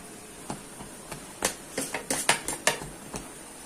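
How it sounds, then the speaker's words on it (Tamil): Idli batter being poured and spooned into the cups of an idli plate, heard as a cluster of close, sharp metallic clinks and taps of varying loudness with no speech. "இட்லி ஊற்ற போகிறேன்."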